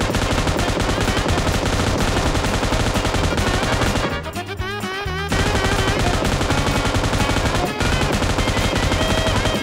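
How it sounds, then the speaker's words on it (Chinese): A Groza assault rifle in PUBG Mobile sprays sustained automatic fire at a vehicle, loud and continuous, with a brief pause midway before the rapid firing resumes. "这个大菠萝扫车真的爽呀，按着开火键不松那感觉好嗨哦"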